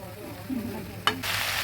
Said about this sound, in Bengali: ভালোভাবে নেড়ে দিচ্ছি আর একটু হবে তারপরে জল দেব